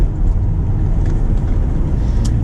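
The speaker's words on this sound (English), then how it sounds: "all you hear is the engine. You don't hear the exhaust at all, you hear the engine" Car engine fitted with an aftermarket intake and stock exhaust, a steady loud low drone with deep rumble and no talking over it.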